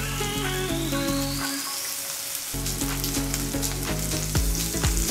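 Cooking oil sizzles and crackles in a pan over low heat, a dense rain-like hiss that runs loud and close, briefly dropping out midway before resuming with scattered pops, while steady music plays underneath.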